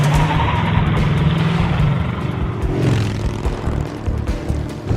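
A car racing through a chase, its engine roaring steadily up close while a long tire squeal rises and fades partway through.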